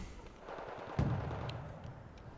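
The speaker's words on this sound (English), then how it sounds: "There goes the missile." A missile launching in the military strategy game Wargame Red Dragon, heard as one faint, low thump followed by a short rushing tail, set over steady background game ambience.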